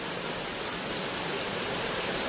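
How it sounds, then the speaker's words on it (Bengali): Heavy rain falling outside, a steady dense hiss with no breaks and no voices, fairly close and even in loudness throughout. "বাইরে এই পরিমাণে বৃষ্টি শুরু হয়ে গেছে"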